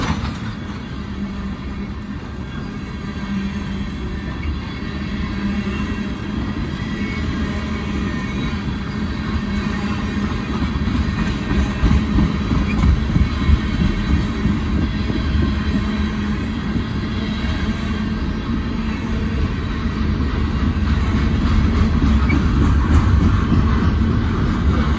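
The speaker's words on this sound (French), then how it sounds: "Ah bon, enfin, il y a des nouveaux wagons." Long CN freight train rolling past with its wagons, a steady, loud rumbling roar with faint rhythmic clatter building slightly over time, continuous and close without pause.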